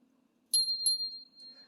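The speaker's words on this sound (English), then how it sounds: "I will ring my bell." A small altar bell is rung twice in quick succession, each bright metallic strike followed by a clear ringing tone that slowly fades in a quiet room.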